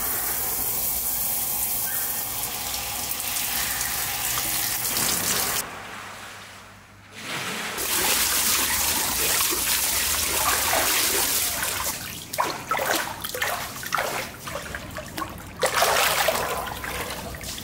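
Cold water runs steadily from a tap or shower with a continuous rushing hiss. It stops briefly for about a second, then resumes and ends with uneven splashes and drips.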